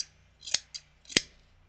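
Old scissors dating from the 1960s snip material for an R/C fuselage mold, giving two crisp, close cuts with a fainter snip between them, alone in a quiet room.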